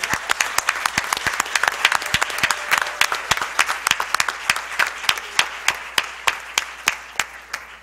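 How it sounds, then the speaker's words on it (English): Scattered applause at a school board business meeting welcomes a new ninth-grade student representative, starting as a dense patter and thinning into fewer, distinct individual claps that slow toward the end. "So let's give Sophie Gallivan a round of applause as our new student."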